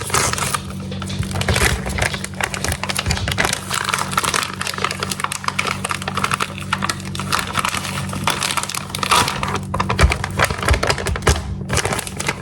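A sealed bag of Javvy protein coffee being ripped open, a continuous crinkly crackling of plastic packaging handled up close for several seconds.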